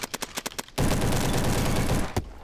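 SM-03 submachine gun firing in Roblox Bad Business, loud and close: a few quick separate shots, then a sustained dense automatic burst lasting over a second, ending with one last sharp report.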